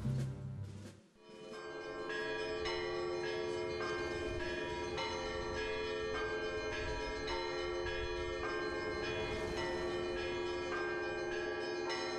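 Church bells ring continuously, with layered, overlapping strikes that sustain a dense, bright tone throughout; no speech.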